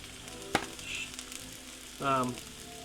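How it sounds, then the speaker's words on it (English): Peppers sizzle in a pan while cooking down for a spaghetti squash and shrimp dish, with a soft frying hiss, a sharp utensil tap and a brief scrape of stirring. "I got some more peppers that we'll add in here and cook those down"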